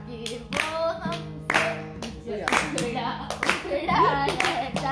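A small group claps on a trip in Udaipur, uneven bursts of hand claps mixed with a voice and other people talking nearby.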